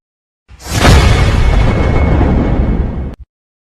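A single heavy gunshot-like blast from a dropped gun in an animated horror story, loud and sustained with a long roaring body that cuts off abruptly after about two and a half seconds, with no talk.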